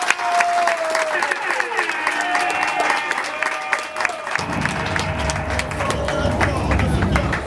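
A crowd applauds and cheers at a political installation ceremony in Libreville, Gabon, with steady clapping and voices throughout and a low rumble swelling in over the second half.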